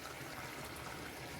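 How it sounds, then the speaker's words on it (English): Water pours steadily into a pan of tomato sauce, a continuous soft gushing rush with no break, fairly quiet and close. "So I'm going to pour like that much of water"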